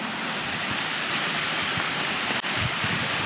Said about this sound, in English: And water drops down into them on this one, look.